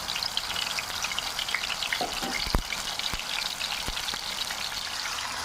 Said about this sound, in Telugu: పచ్చి వాసన పోయేంత వరకు బాగా వేయించుకోవాలి.